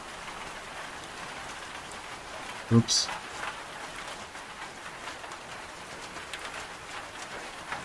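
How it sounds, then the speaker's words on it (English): Rain falls in the zombie survival game Project Zomboid as a steady, even hiss of drops. A brief sharp clatter sounds near the start, and a voice speaks briefly over the rain. "Wow, this rain is so choppy."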